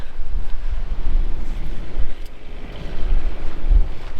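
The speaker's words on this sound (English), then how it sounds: "So the wind is absolutely horrible at the moment. It is just absolutely gusting its balls off." Strong, gusting wind buffets an outdoor microphone in a steady low roar that swells and dips through the whole stretch, with no talking.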